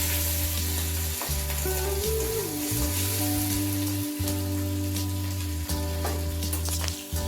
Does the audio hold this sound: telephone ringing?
no